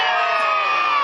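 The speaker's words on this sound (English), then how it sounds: "can you give me a scream?" A crowd at an outdoor medieval fayre in Doonside screams together on cue, a brief, loud, sustained mass of high voices.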